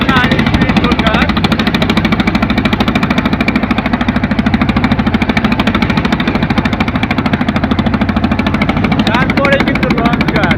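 Boat engines run at a riverside speedboat ghat with a loud, steady, rapid throbbing rumble that never lets up. Someone talks continuously over the engine noise.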